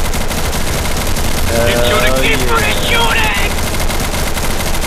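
Gunfire in the video game Insurgency, a loud, continuous rattle of automatic fire that runs throughout, with a voice faintly audible in the mix.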